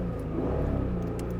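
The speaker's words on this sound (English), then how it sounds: "Oh man, you could hear the V6 purr." Honda NSX V6 engine idling or cruising with a low, even purr, a steady rumble close by with a faint rise in revs midway; no talking.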